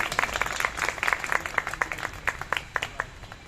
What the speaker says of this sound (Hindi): तालियां बजाइए थोड़ा सा।